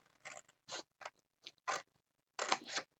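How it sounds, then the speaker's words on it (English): Scissors cut paper in a series of short, crisp snips, about seven close strokes separated by brief silences. "It's just easier for me to use the scissors."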